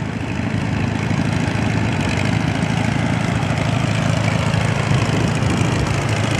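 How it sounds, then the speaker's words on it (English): Engine of an antique Avery tractor idling at a 2024 antique tractor parade in Maryland, a steady low rumble that runs unbroken at close range with no speech over it. "Here we have another Avery tractor."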